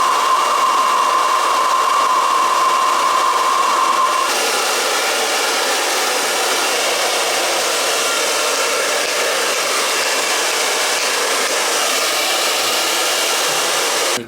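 A hair dryer runs loud and steady at close range, a broad continuous whoosh with a thin whine during the first four seconds that then drops away, leaving the airflow to carry on alone.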